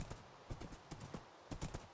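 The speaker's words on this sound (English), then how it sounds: "Hey, look, it's a skeleton horse." Quiet hoof clops of a skeleton horse in a survival video game, an uneven trotting rhythm, a run of soft thuds that sounds game-like and faint.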